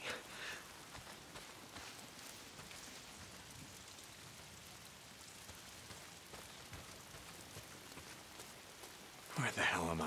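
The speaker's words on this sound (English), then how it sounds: "Why is it always raining?" Steady rain pattering on surfaces in the open-world game Days Gone, a soft continuous hiss with scattered drops, fairly faint throughout and rising briefly near the end.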